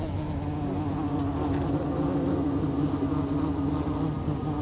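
Small ground-nesting bees in the Atacama desert hum steadily around their tiny colony, a close, continuous buzz with no voices.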